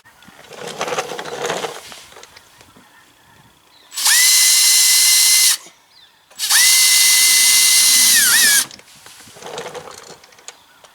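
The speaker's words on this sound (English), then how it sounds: "what I might do is drill it out and use a small self tapper" A power drill bores out a screw hole for a mud guard on a 2018 Ford F-150, two loud sustained whirring bursts with a short pause between them, framed by softer handling noises.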